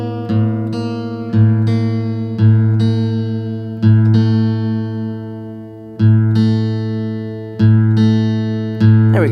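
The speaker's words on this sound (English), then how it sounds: "we're going to bring that second string B down to sound like the fifth string A" A guitar's second string is detuned from B down to A, a loud repeated plucked note with ringing harmonics. The pitch slides and settles across about eight evenly spaced strikes, each decaying before the next, with no voices.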